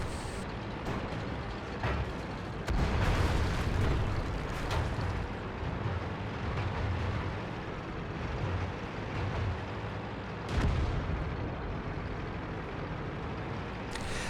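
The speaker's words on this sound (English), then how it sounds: "Ouch, gets shot by the Skoda behind him" Tank cannon hit from a Skoda tank in a World of Tanks–style battle game, with heavy broadband rumble and explosive bursts around 3 and 10.5 seconds over continuous low engine and battle noise, no talking.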